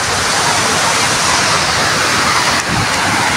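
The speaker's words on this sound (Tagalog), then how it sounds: "Ayan yung falls." A tall waterfall pours with a loud, steady roar of rushing water, close by and unbroken throughout.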